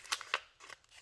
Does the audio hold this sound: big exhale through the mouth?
no